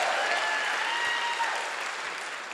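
A church congregation applauds and cheers for a visiting pastor, steady dense clapping with a roar of voices that fades slightly toward the end.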